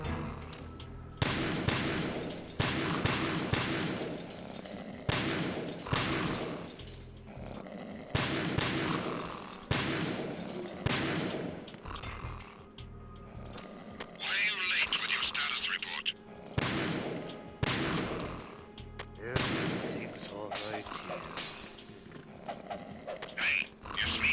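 Gunshots in the video game Metal Gear Solid 2, set on the Big Shell offshore station, sounding as sharp separate bangs and short volleys spread across the stretch, with someone talking at times between them.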